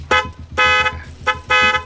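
A car horn honks loudly three times, the second and third blasts longer, close by with engine rumble underneath.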